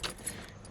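Car key sliding into the ignition of a 1998 Mustang Cobra, a brief close jingle of keys and metal clicks, short and fairly quiet inside the car.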